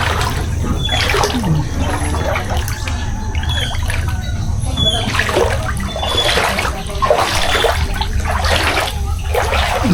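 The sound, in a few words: water sloshing in a flooded house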